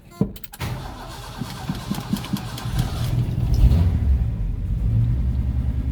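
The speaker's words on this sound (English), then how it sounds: "So we're gonna see if we can get this thing started." A Ford engine with a carburettor cranks briefly, catches, and settles into a steady, rumbling idle, recorded close up.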